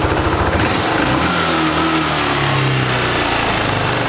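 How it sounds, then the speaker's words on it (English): A cheap used ATV engine, running without an air filter after a carburetor fuel screw adjustment, revs out hard and holds a loud, continuous high-rpm buzz close to the microphone, with no talking over it. "Revs out all the way."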